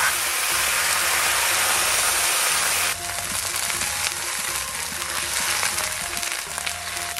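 Cola poured onto a big steak frying in a pan, a loud hissing surge for about three seconds that then settles into a quieter bubbling sizzle with light clicks.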